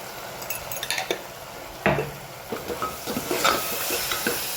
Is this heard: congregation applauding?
no